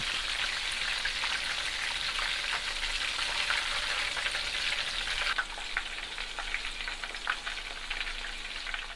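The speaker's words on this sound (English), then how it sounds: "since our meatballs are getting fried up" Meatballs frying in a pan with a steady, dense sizzle and crackle that stays loud throughout, easing slightly partway through, with no talking.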